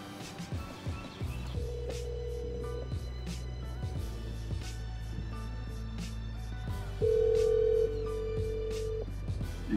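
Telephone call ringing through before reaching voicemail, steady low electronic tones with short beeps and a brief louder tone near the end, heard alongside background sounds.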